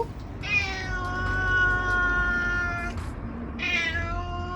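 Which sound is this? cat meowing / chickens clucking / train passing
cat meowing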